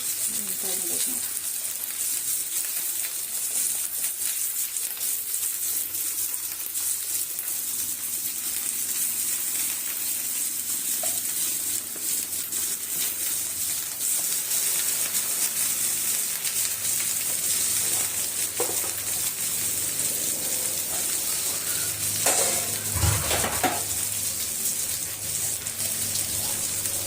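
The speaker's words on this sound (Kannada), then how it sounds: "ಈಗ ಇವನ್ನ ಬೆಂಡೆಕಾಯಿ ಹಾಕಿ ಫ್ರೈ ಮಾಡ್ಕೊಂಡ್ಬಿಡ್ತೇನ್ರಿ." Okra frying in a little oil in a pan in a home kitchen, giving a steady, moderately quiet sizzle throughout with occasional stirring clatter.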